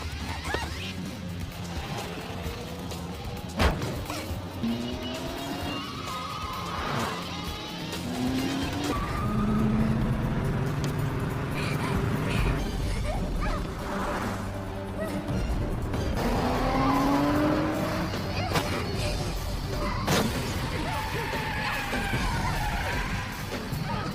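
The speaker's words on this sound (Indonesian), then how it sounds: "Fang Jing yang menyadari hal ini akan terjadi langsung bergegas mengejar mobil Sunny" A car chase with tires skidding and squealing in repeated bursts over roaring engines and a dense action soundtrack.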